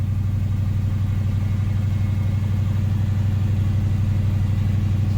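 A Chevy Nova engine fitted with Holley Sniper EFI idles high, a steady loud low rumble with no change in pitch, close by and heard alone.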